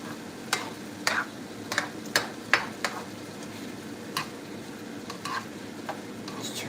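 Food simmering in a pan while cooking: a low, steady sizzle runs throughout, broken by scattered sharp clicks and taps like a utensil stirring against the pan, with no talk.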